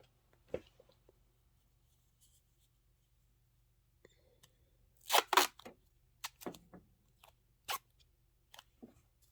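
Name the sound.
tearing off a piece of tape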